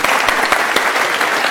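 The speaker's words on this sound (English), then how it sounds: "A massive round of applause for Jack and Kieran." A large audience claps steadily at a Royal Television Society North West awards ceremony for two presenters. The applause is loud and continuous, with dense overlapping hand claps throughout.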